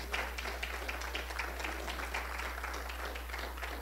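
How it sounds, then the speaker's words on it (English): A church congregation gives a steady hand clap of praise during a Wednesday service, a fairly quiet, even patter of many hands sustained throughout, with a low constant hum beneath. "Somebody give God a hand clap of praise."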